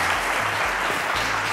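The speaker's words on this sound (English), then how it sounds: "Round of applause to Theophilus." Brief, loud, dense applause from a studio audience on a Nigerian quiz show, greeting a student contestant, a steady wash of clapping throughout.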